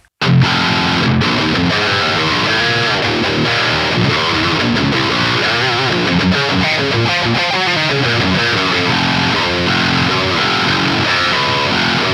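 Heavily distorted eight-string electric guitar plays a dense, low, chugging riff without pause, loud and saturated throughout.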